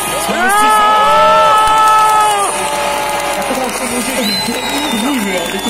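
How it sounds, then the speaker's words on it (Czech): A large crowd of Czech hockey fans packs Masaryk Square in Ostrava during the final minute of an IIHF world championship final, shouting and cheering loudly together, with whoops and a rising roar. A voice leads the chant. "ještě si pojďte všichni zařvat Češi do toho! Češi do toho!"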